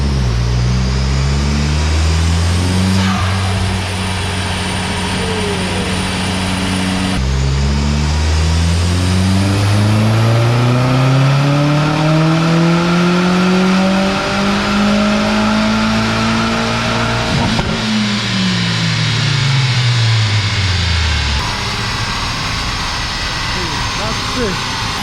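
An Audi S3 turbocharged 1.8-litre engine revs loudly, its pitch climbing and falling through several gear changes, with a voice briefly speaking over it.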